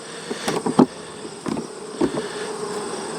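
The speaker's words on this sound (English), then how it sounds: "And there's actually quite a few bees here." Honey bees buzz around an open hive with a honey super, several close passes rising and fading over a soft continuous hum.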